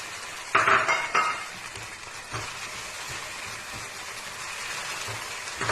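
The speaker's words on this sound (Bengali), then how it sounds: "সাবুটাকে একটু ঘিয়ের মধ্যে নাড়াচাড়া করে নিয়েছি।" A spoon clinks against a frying pan a few times early on, then a steady soft scraping stir of sago in ghee continues over a faint background hiss.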